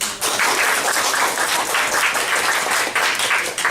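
A comedy society crowd at a student performance claps hands in a dense, steady burst, loud and continuous throughout with no talk rising above it.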